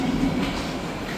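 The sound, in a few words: metro train ride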